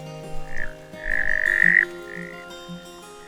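A single male frog calls in the Australian bush after La Niña rains fill the ponds, giving a few bright, close croaking bursts, with one longer call in the middle and a faint background of other sounds.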